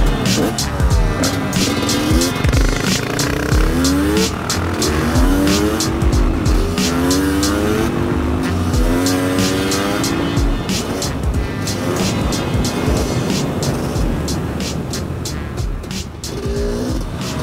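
A supermoto motorcycle ridden hard at high speed during a wheelie session, its engine revving and wailing through rising and falling pitch sweeps, loud and near, with tire noise and someone talking excitedly over it.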